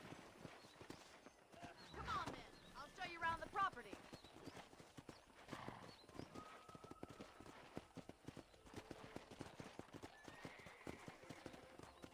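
Horse hooves clip-clop at a steady walking pace in the Red Dead Redemption video game, faint and continuous under people talking, with a soft ambient outdoor backdrop.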